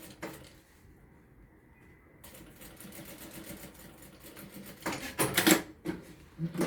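A home sewing machine topstitches a seam on a zippered cosmetic pouch, giving a faint, steady mechanical whir and rattle that turns into louder, choppier bursts near the end, with no talking.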